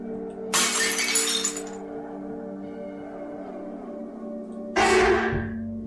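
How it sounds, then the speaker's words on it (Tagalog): A drinking glass slips from someone's hand while washing dishes and shatters, giving a loud crash with scattering shards, and then a second sharp breaking burst follows a few seconds later over a steady background hum. "Biglang nahulog ang baso na kanyang hawak-hawak."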